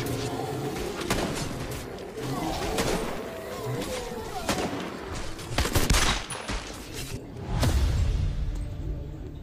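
Rapid gunfire from a video game zombie shootout, with dense bursts of shots cracking in uneven clusters over a busy background of game ambience and faint voices.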